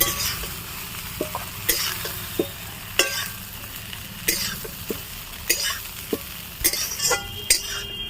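Soybean chunks frying in oil in a pan, with a close sizzle punctuated by repeated sharp clinks and scrapes of a spatula against the metal, irregular and fairly loud.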